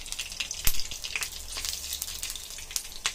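Coconut and sesame seeds sauté in a little ghee in a kadai, a soft, crackly sizzle with scattered small pops and one sharper tap of a spoon against the pan, close and fairly quiet.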